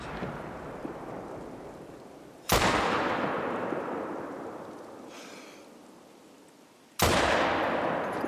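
Two loud, sharp rifle shots from a Solokhin MN1890 in a hunting video game, each cracking hard then rolling off in a long fading echo, spaced several seconds apart.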